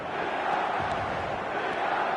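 A steady, loud roar from an 80,000-plus stadium crowd cheering in the eFootball football game, sustained evenly throughout with no distinct peaks.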